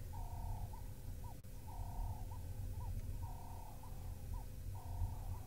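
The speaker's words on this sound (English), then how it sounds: "enjoying the moment and the sounds of the turtle doves, I suppose, that you can probably hear. There's a pair of them calling." A pair of turtle doves calls in the African bush, soft purring coos repeating in regular phrases at a moderate distance over a low steady background rumble.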